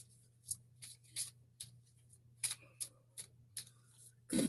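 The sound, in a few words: shuffling law of attraction oracle cards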